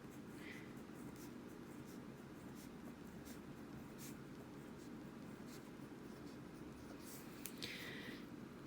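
A pen draws dimes on paper in a quiet room, making soft scratching strokes in short repeated bursts. The sound stays faint and close.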